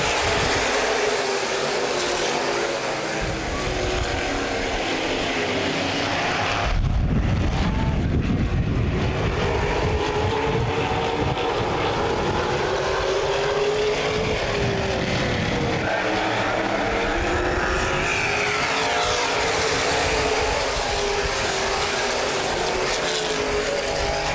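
Open-wheel modified race cars roar around Baer Field Speedway under the green flag, a loud, continuous engine drone that swells and shifts pitch as the pack passes, with no talk over it.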